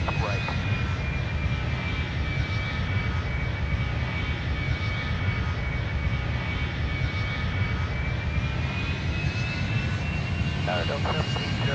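Jet airliner on a runway roars with a loud, steady, broadband engine rumble and a high whine that holds throughout, alone without other voices.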